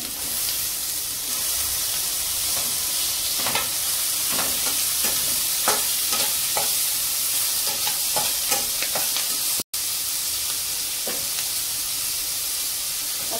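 Chopped carrot and tomato sizzling in hot oil for vegetable rice, with a steady frying hiss and repeated scraping stirs of a spoon against the pan, close and continuous with no talk.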